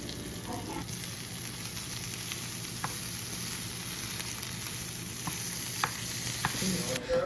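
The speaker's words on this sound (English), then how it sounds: "I'm sauteing the karaili" Bitter gourd (karaili) sautéing in a pan, a steady soft sizzle with occasional light clicks of stirring throughout, close and moderately quiet, no voices.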